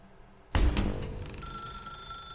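A telephone in The Stanley Parable video game starts ringing abruptly after a quiet moment, a loud bell-like ring that decays into a sustained electronic tone.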